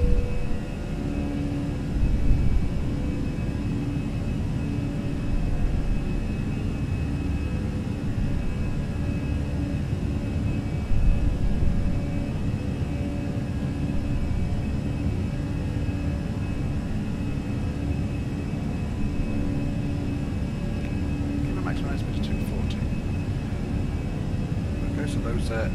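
An aircraft in Microsoft Flight Simulator 2020 flies at 220 knots with its landing gear down to cool hot brakes, producing a loud, steady engine drone and rumble that fills the whole span without letting up.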